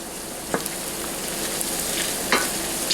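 Bell pepper and garlic saute in a pan for shrimp pasta, a steady close sizzle with occasional scraping stirs and light clacks of a utensil.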